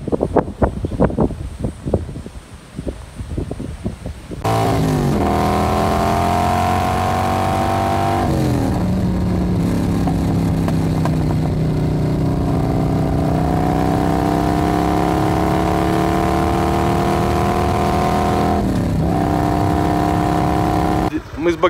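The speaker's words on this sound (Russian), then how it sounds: "Мы с Богданом ездили по окраинам Пхукета на мопеде" Moped ridden along roads on the outskirts of Phuket, Thailand, a steady close engine drone with rising and falling pitch as it shifts, heavy wind buffeting throughout, after a few seconds of rustling before the ride starts.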